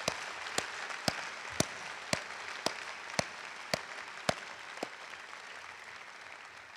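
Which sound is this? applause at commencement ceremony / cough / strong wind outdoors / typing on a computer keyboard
applause at commencement ceremony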